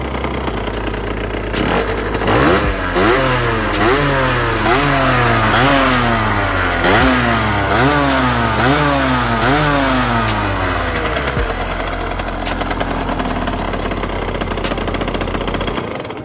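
A motorcycle engine at close range revs repeatedly in rising bursts while accelerating, loud and rough, before settling back to a steady idle.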